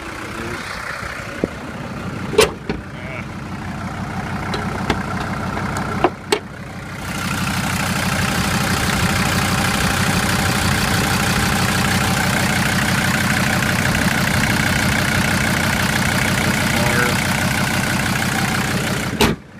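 A 2000 Ford F-150 with a diesel swap is started after the glow plugs warm, with a few sharp clicks and knocks before the engine catches around midway, then a steady, loud, close diesel idle rumbles on to the end.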